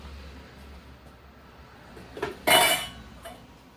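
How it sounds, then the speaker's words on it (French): Quiet room, then dishes knock and clink together as they are set down, one sharp clattering burst near the end. "Je vais ranger ma vaisselle."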